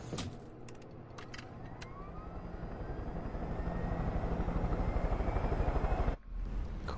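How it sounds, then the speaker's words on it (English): A big helicopter in Far Cry 5 chops with a rhythmic rotor pulse that builds louder and closer over several seconds, cuts out briefly near the end, then resumes. "Can you now spawn me my helicopter?"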